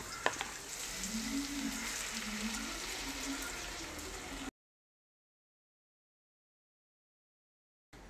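Sauce mix poured into onions frying in a pan for chilli chicken: a steady hiss and sizzle with soft bubbling for about four seconds, then silence.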